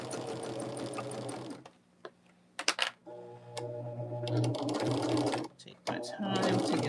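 Sewing machine stitching over fabric seams in quilting, running in bursts with brief pauses and a rapid mechanical whir, close, with a person talking between and over the stitching.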